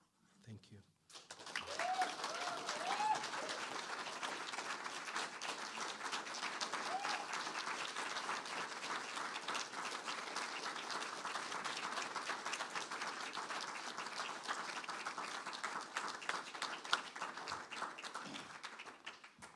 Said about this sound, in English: we need to give Dante some more applause, please